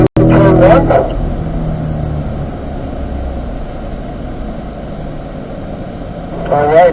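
A race car on the Spring Mountain track at a performance driving school roars loudly at close range, downshifting into fourth gear on the approach to turn 1, with engine revs swelling and dropping under an instructor's talk.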